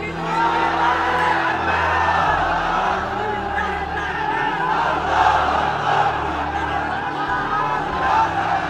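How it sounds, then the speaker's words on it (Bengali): A large crowd gathered at an Islamic religious sermon (waz) shouts in unison, a loud, sustained mass of voices filling the hall for several seconds with swells and bursts of cheering. "তাকবীর দেন তো একজন আওয়াজ করে।"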